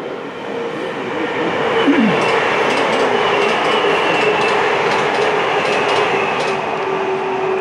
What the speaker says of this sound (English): The latest train escaping Wigan's just gone past.